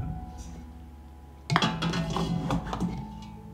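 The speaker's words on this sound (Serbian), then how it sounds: "na dno šerpe stavljam krpu i unutra ređam tegle" Glass jars are set one by one into a pot lined with a cloth for pasteurizing, giving a quick run of close, light clinks and knocks after a quiet start.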